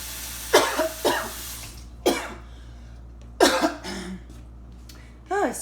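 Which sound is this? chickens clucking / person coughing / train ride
person coughing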